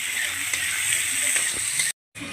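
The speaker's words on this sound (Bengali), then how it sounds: "এটাকে আমি ভালো করে লাল করে ভেজে নেবো" Onions with a little sugar fry in oil, a continuous close sizzle that cuts out abruptly near the end and then resumes.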